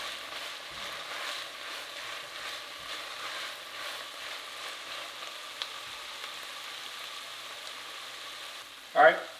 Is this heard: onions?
yes